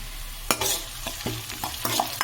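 Onions frying in a pan with salt added, stirred in quick repeated scrapes over a steady low sizzle, close and fairly quiet, with no voices.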